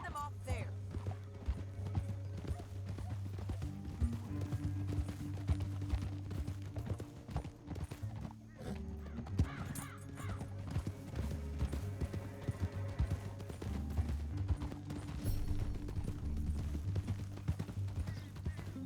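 Horses ridden in the Red Dead Redemption 2 epilogue, a canyon setting: steady hoof clip-clop under a continuous bed of game music and ambience, moderately loud throughout, with occasional faint vocal sounds.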